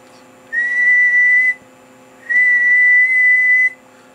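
A person whistles two steady, sustained tones into a microphone to test a Dentron MLA-2500 ham radio amplifier on the bench, each held about a second with a brief gap, loud and clean over faint hum.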